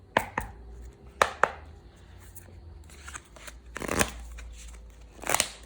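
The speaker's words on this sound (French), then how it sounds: "je vais mélanger, couper en trois et prendre les cartes du dessus du paquet au fur et à mesure" A deck of tarot cards is shuffled and cut by hand, heard as sharp, close riffles and snaps in uneven bursts with quieter handling rustle between them.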